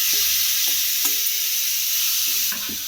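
Marinated chicken hitting a hot kadai, a bright steady sizzle with a few soft clunks and stirring knocks beneath it, no voices.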